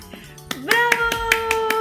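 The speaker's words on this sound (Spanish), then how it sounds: "¿Podemos aplaudir por Allí va?" Children clap after a storytime tale, a run of quick, fairly close claps with a sustained sung or spoken voice tone layered over them.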